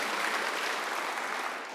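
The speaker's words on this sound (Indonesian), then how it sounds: "Tepuk tangan bagi Allah kita." A church congregation applauds during a worship service, a dense burst of clapping that begins at full strength and fades slightly toward the end, with no talk over it.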